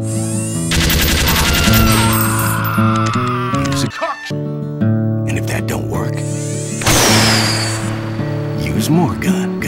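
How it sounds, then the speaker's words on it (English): Loud heavy-caliber tripod-mounted machine gun in Team Fortress 2 firing in rapid sustained bursts, mixed with game effects and voices throughout. "Like this heavy caliber tripod mounted little old number designed by heavy weapons guy."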